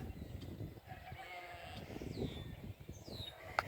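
Ewes grazing on weeds such as poison ivy let out a few faint, scattered bleats over a low outdoor rumble, with brief birdlike chirps and a sharper call near the end.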